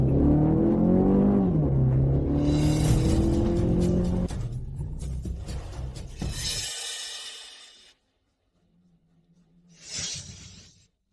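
A car engine revs and accelerates hard during a street race, loud and close, with a rising whine and a sharp crash-like burst before it cuts away to near quiet and a brief final whoosh.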